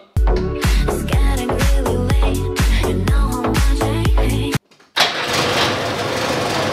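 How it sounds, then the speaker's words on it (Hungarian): A Lada Zhiguli car engine cranks with a rapid, rhythmic starter churn for about four and a half seconds, cuts out briefly, then catches and settles into a steady, loud idle close by, started without throttle or choke. "Gáz és szivaton nélkül indítok."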